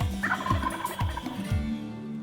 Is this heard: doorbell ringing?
no